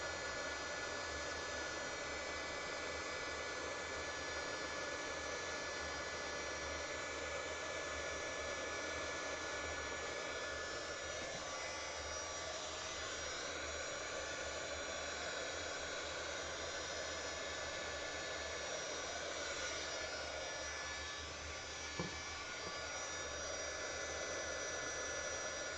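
A heat embossing gun blows steadily at close range, melting resin on a tile coaster as a continuous airy roar, loud and unbroken for the whole stretch, with no voice over it.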